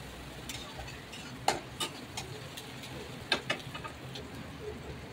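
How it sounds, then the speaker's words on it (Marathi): Green chillies and curry leaves sauté in hot oil, a soft steady sizzle broken by a few sharp pops and spatula ticks against the pan. "तेलामध्ये हिरवी मिरची व कढीपत्ता चांगला परतून घेतला"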